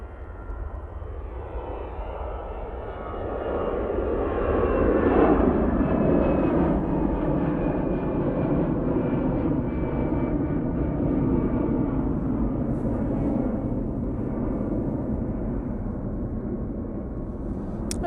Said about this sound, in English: That's off to Tenerife using the A320-200